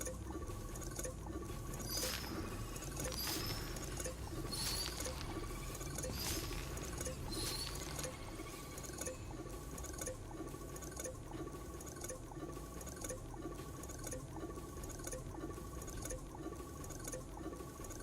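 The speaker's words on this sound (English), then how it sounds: "It's raining." Rain falls in the video game Astroneer as a faint, steady patter and hiss with light crackling droplets and no voices.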